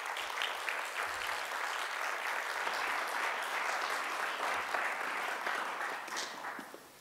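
An audience applauds steadily as fashion designer Abasi Rosborough is welcomed at a menswear talk, a dense, sustained clapping from a room full of people that fades slightly at the end.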